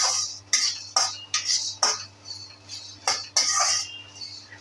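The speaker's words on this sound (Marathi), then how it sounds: "लवंग, वेलची आणि मिरी असं 20-20 ग्रॅम घेतलेलं आहे आणि तेही आता आपण भाजून घेऊया." Whole cloves, cardamom and black pepper dry-roast in a metal pan, the spices rattling and scraping as they are stirred, in short bright bursts separated by brief pauses, with no talking.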